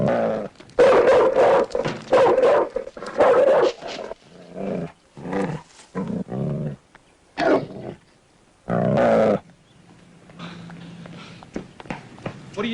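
A dog growls and snarls in loud, repeated bursts, some gruff and roaring, separated by short pauses, with quieter rustling and movement between them.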